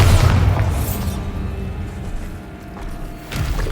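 A Bombarda blasting spell in Hogwarts Legacy goes off as a loud, deep boom at the start, followed by a rumbling decay and a second smaller burst near the end.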